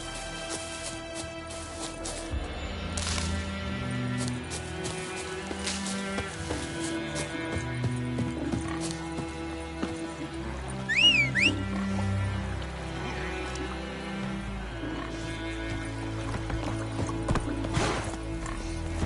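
Geralt's horse Roach gallops in The Witcher 3, with steady hoofbeats running under a dense layer of game music and ambience and a brief high call near the middle.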